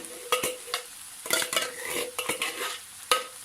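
Ground beef and tomato mixture stirred in a pan for a potato-and-beef béchamel gratin: repeated scraping strokes of a utensil against the pan over a soft sizzle, close and moderately loud, with no talking.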